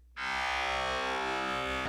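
A Subtractor synth note in Reason fed through Scream 4 distortion on the high band comes in abruptly and sustains as a loud, bright, buzzing distorted tone for nearly two seconds, then cuts off.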